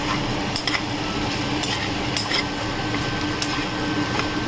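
Spices and Kashmiri chili powder being stirred and fried in a pan over medium heat, a continuous close sizzle with repeated scraping strokes of a spoon, no voices.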